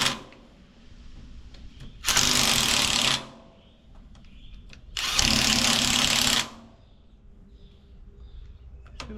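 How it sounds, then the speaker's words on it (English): Impact wrench tightening a hub onto the axle of a Minneapolis Moline ZAU tractor, two loud sustained bursts of about a second and a half each, separated by quiet, heard up close. "Be careful, you're using the impact."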